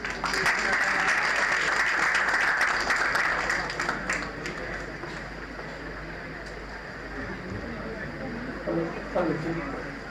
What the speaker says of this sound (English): Please welcome Aditya Rane sir with a huge round of applause.